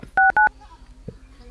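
Phone keypad tones as a number is dialled, two short clear beeps in quick succession, close and loud, followed by faint background murmur.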